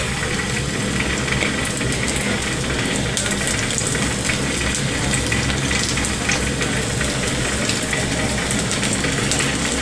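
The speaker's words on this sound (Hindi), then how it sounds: "तो डालती मैं हूँ अब इसमें प्याज के पकोड़े" Onion pakoras fry in a pan of hot oil, a dense, steady sizzling and crackling hiss that continues loud and close throughout with no talking.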